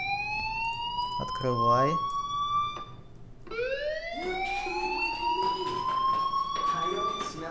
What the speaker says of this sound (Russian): Что, сирену не слышишь?